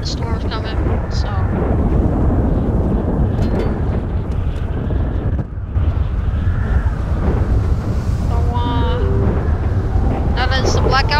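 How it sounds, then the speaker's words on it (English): A stormy scene in the role-play video game FiveM, with a continuous roar of wind and rumbling thunder and a few brief tonal sounds layered over the top. A voice talks faintly beneath the storm. "The storm's coming"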